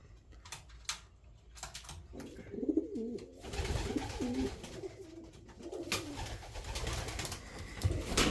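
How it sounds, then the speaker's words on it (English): Pigeons in a loft coo in low, throaty rolls, close and continuous for several seconds, with wing flutters and shuffling among the birds. "He's quite a nice looking pigeon."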